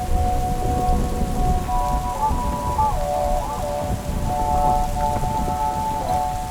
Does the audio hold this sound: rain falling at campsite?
yes